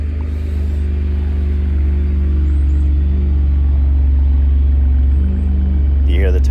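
A 2021 Ford F-150 with the 3.5 EcoBoost and a Corsa exhaust idles steadily, a loud continuous low rumble that barely changes, with a brief voice near the end.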